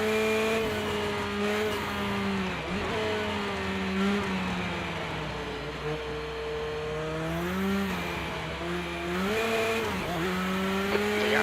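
A race car in Project Cars 2 drives on a dirt track in the wet, its engine droning loud and steady with rising and falling revs as gears shift, heard alone without talk.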